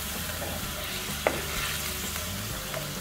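Ingredients sizzling in a pan as they are stirred while cooking a Chinese New Year pork dish, a steady close frying hiss with scraping stir strokes and one sharp clack of the utensil.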